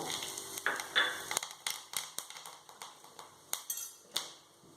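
Mustard seeds and urad dal hit hot oil for tempering a spinach kootu, giving a faint sizzle broken by scattered crackling pops and the clink of a metal utensil against the pan.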